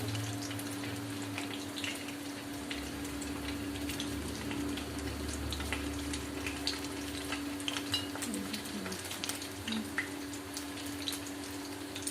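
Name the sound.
frying chilli chicken in oil in a pan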